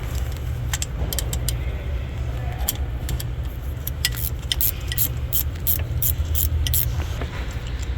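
Ratchet working a 13mm bolt loose on the idler pulley of a 2016 Jeep Grand Cherokee, a run of quick sharp clicks in bursts over a steady low hum in a garage.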